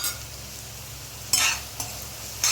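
Fried okra being stirred into a pot of egg pulusu, a tangy Andhra-style egg curry, with three short, close scraping swishes of a spoon spaced a second or so apart over a low, steady kitchen hum.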